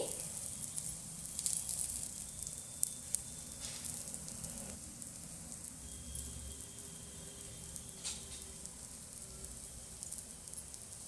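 Oil drizzled around a holige frying on a pan gives a faint, continuous sizzle, with a few soft crackles and scrapes at close range.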